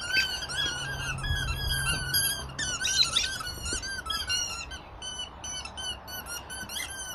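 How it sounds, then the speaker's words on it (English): A boxer dog gives a run of high, squeaky vocal whines and yips, repeated in quick rhythmic bursts over several seconds, close and fairly loud with no talk. "The Squeaky Serenade by Boxer Rex and Sammie."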